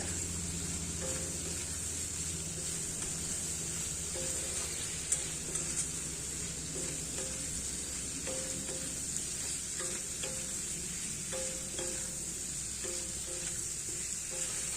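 Whole raw poppy seeds sauté in a pan, making a soft, continuous hiss and sizzle with faint occasional stirring taps. The sound is fairly quiet and steady, with no voices.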